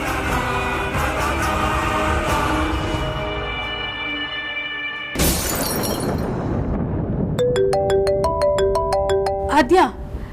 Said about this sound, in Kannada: ಆದ್ಯ, ನನಗೆ ಫೋನ್ ಬರ್ತಾ ಇದೆ, ನಾನು ಹೋಗಿ ಮಾತಾಡ್ತೀನಿ.